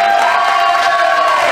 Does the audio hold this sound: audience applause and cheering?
yes